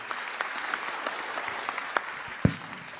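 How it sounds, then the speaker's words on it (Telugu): Audience applause at a public event in Andhra Pradesh, a steady dense patter of clapping with a few sharper claps standing out and one louder burst near the end. "గట్టిగా చప్పట్లు కొట్టి వీళ్ళని కూడా అభినందించారు"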